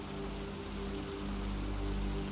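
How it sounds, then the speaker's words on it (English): Steady rain patters against window glass in a soft, even wash, a close and continuous hiss with a low hum underneath and no voices. "The rain against the glass is no longer a sound, but a texture, a soft vibration that lulls your nervous system"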